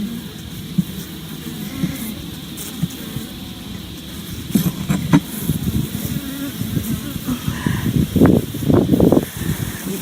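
Honeybees swarming over a crowded hive frame during an inspection, a continuous close buzz with louder rustling bursts toward the end, no voices.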